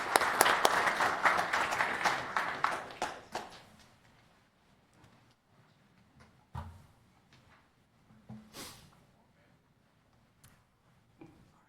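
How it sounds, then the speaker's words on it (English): An audience at a city council meeting in O'Fallon, Missouri breaks into brief applause, loud at first and then fading out within a few seconds, followed by scattered small knocks and rustles in a quiet room. "Let's give Michael a round of applause here."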